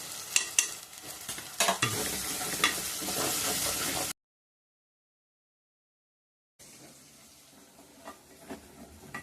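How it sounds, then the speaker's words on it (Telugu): Spices including garam masala fry in hot oil for an Andhra-style mutton dry curry, with close sizzling and stirring scrapes that cut out midway for a few seconds of silence before a quieter sizzle returns. "ఏగాయి మసాలాలన్నీ, ఏగాయి నూనెలో. మసాలాలన్నీ ఏగిపోయాయి."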